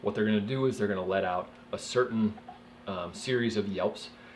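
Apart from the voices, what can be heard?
No everyday noise stands out behind the speech.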